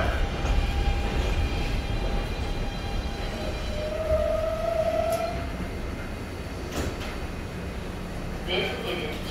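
A 7 train terminating at Queensboro Plaza, New York City, rumbles steadily at moderate distance, with a brief rising whine from the wheels or motors midway and faint voices in the background.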